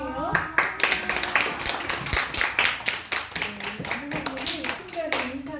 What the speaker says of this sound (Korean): 지금 나오시면 박수로 큰 박수로 환영해요.